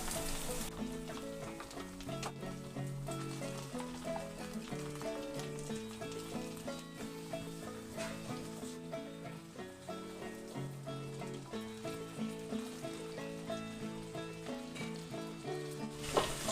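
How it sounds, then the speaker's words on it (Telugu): Masala-coated fish pieces fry in oil in a pan, a low continuous sizzle under steady, even background music with no pauses. "చేప ముక్కలు 2 వైపులా చక్కగా కాలి"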